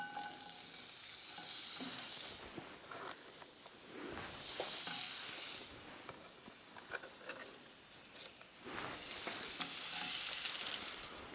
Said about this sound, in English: Then we're gonna throw in the onions.